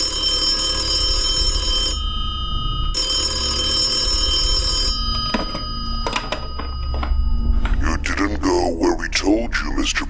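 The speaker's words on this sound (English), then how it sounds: "when the phone rang a second time this evening, I knew who would be on the line" A telephone rings loudly in two long bursts with a short gap, as a sound effect in a Batman motion comic; a voice then begins speaking over a quieter background.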